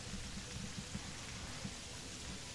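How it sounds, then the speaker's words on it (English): Steady rain hissing in the video game Terraria, a continuous broadband downpour with faint low rumbles beneath, evenly loud throughout with no voices. "And this is why rain's so confusing."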